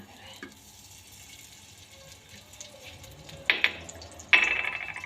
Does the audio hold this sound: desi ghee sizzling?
yes